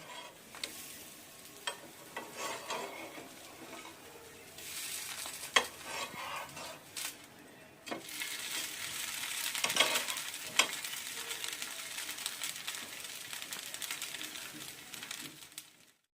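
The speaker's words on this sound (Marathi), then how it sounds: "वरून थोडंसं तेल सोडून दोन्ही साईडनी घावणे छान शेकवून घेऊ" Ghavne, lacy rice crepes, roast in a pan with a little oil drizzled over, flipped to cook on both sides, giving a soft ongoing sizzle broken by scattered clicks and scrapes of the spatula.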